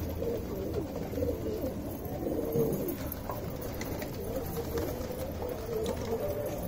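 Pigeons kept for sale in Delhi, including crested Babra Patel birds, cooing steadily in a continuous low murmur from several birds at close range.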